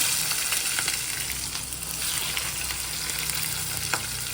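Onions fry in a hot pan for chicken bagara rice, a loud, dense, steady sizzle heard close up with faint stirring scrapes underneath.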